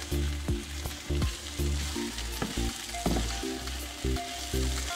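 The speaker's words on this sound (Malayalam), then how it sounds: "കറിവേപ്പില ചേർത്ത് നന്നായിട്ടൊന്ന് ഇളക്കി യോജിപ്പിക്കാം" Chicken upperi, a Kannur-style chicken thoran, fries and sizzles steadily with curry leaves in a pan, with repeated scraping stirs and clinks of a spoon against the pan over the continuous hiss.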